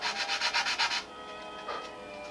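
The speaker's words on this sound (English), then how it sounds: "we have a little plywood tool with a little piece of sandpaper" Sandpaper on a small plywood tool rubbed back and forth over a model airplane flap, about eight quick rhythmic strokes up close, then quiet background.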